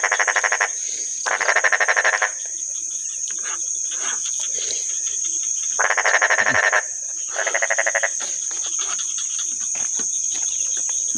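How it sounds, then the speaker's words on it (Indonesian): Frogs croak in a forest between Muara Wahau and Muara Bengkal, sounding in loud pulsing bursts that repeat several times over a steady high insect drone. "kodoknya menghibur kita nih."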